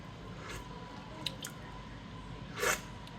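A single moist, squishy crunch of someone biting into a salty homemade pickle, heard close up in an otherwise quiet moment with no talking.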